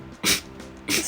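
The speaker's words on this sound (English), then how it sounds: "So these sneeze attacks were really interesting." A person recovering from double jaw surgery sneezes twice in quick succession, two sharp close bursts of breathy noise about 0.7 seconds apart with no talking.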